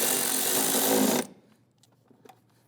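A bolt being tightened on a 2011-2021 Jeep Grand Cherokee engine during an ignition coil boot replacement: a loud, close, steady power-tool whir runs for just over a second, then cuts off, leaving faint scattered clicks and handling noise.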